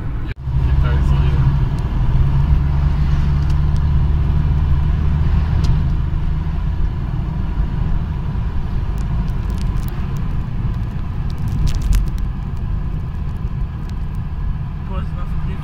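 Empty Chinese-made trucks drive along a road toward the city, giving a continuous, loud, low rumble throughout while people talk over it.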